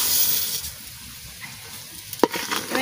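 Raw rice frying in a pan with oil while fish biryani is being made, a steady soft sizzle with occasional stirring scrapes and one sharp clink of a utensil toward the end.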